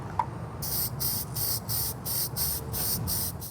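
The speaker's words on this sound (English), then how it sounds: "I'm going to spray on a couple of light layers of this varnish" Short bursts of hissing spray from an aerosol can of varnish, repeated in a steady rhythm of about ten quick pulses, close and fairly loud.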